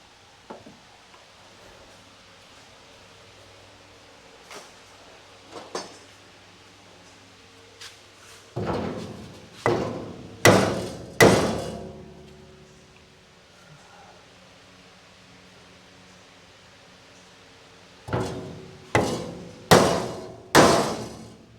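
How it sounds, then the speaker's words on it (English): Several loud, sharp blows of a large hammer on a block of wood while fitting a new floor, a few scattered taps first, then two bursts of three to four ringing knocks with pauses between. "bigger hammer and a lump of wood"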